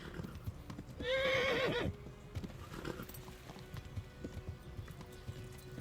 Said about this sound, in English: My poor horse.